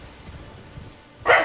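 A puppy gives a single short, loud bark near the end, after a stretch of quiet room noise, with no talking over it.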